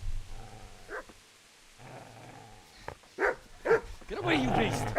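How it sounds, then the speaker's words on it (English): In the video game Kingdom Come Deliverance, a dog growls and then breaks into several sharp snarling barks that grow louder toward the end, mixed with raised voices. "Get away, you mutt!"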